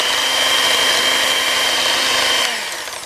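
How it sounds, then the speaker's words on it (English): An electric hand mixer beats an egg into pumpkin spice coffee loaf cake batter, giving a loud, steady motor whine that drops off and fades near the end. "And beat this till you can no longer see the yellow of the yolk."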